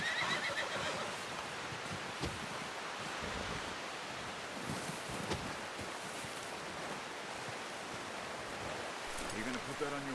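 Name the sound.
horse whinnying in Red Dead Redemption 2 video game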